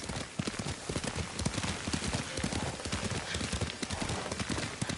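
Horse hooves clip-clop steadily in the samurai game Ghost of Tsushima as a rider travels at a trot, giving rapid, close, rhythmic thuds over a soft outdoor ambience while voices speak.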